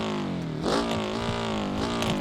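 The engine of a Piccolina Baja car in the BeamNG.drive video game revs and shifts, a buzzy, climbing whine that drops and surges again, fairly close and steady with no talking.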